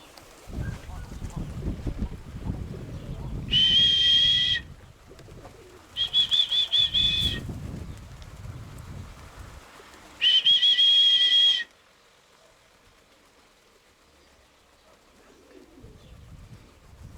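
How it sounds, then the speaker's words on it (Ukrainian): Pigeons on a rooftop beat their wings in three loud bursts of flapping, each carrying a whistling tone, between stretches of quieter shuffling and low background noise. "Ну ось в основному зараз дивлюсь такі, ну, голубки."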